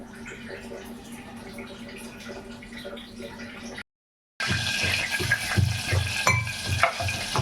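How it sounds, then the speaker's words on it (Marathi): Green chili, cumin and mustard seeds sizzle in hot oil in a pan for fasting sabudana khichdi, a soft hiss that cuts out briefly, then returns louder with popping crackles. "तेल टाकला आणि मिरची टाकलेली आहे जिरा राई पण टाकलेली आहे"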